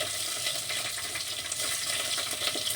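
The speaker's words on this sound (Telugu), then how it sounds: "ఒక బౌల్ తీసుకున్నాను అందులో తగినంత ఆయిల్ వేసి అందులో పచ్చిమిర్చి కరివేపాకు" Green chillies and curry leaves sizzle and crackle in hot oil in a bowl, a steady close hiss with small pops throughout and no voices.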